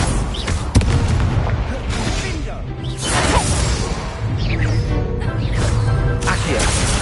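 An Incendio fire spell is cast in a Hogwarts wizarding video game, giving loud, dense booms and whooshing bursts of flame over a constant roar of game effects, with a couple of sharp hits standing out.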